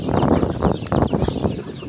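A flock of farm chickens in the mountains of the Philippines clucks and murmurs close by, a busy overlapping chatter of short calls sustained over a steady background rumble.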